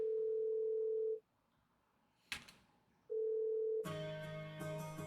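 Steady phone dial tone heard twice, loud and close, separated by a brief silence and a sharp click, before the line connects into a burst of background noise and chatter.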